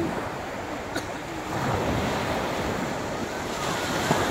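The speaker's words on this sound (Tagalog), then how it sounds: "Malakas na loob ni Ay sa dagat" Sea waves wash onto a beach at Naujan in a continuous roaring surf with heavy wind noise on the microphone, swelling a little louder partway through; no voices are heard.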